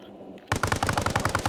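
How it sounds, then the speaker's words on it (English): Tank-mounted machine gun firing in the Arma military video game: a sudden close, loud burst of about a dozen rapid, evenly spaced shots after a brief quiet start. "It's got the basic machine gun."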